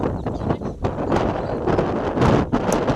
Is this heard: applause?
no